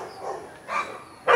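A small puppy gives a few short, soft yips and whines close by, three brief bursts with quiet gaps between them and no talking.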